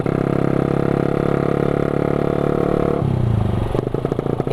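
A motorcycle rides in third gear with a loud, steady engine drone close up. The pitch shifts partway through as the ride goes on past clattering road noise.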